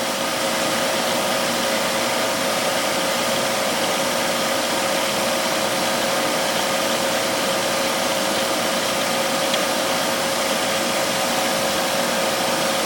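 A refrigerant recovery machine pulls vacuum on a Leica CM1850 cryostat, running with a loud, steady mechanical drone and a constant whine that never changes.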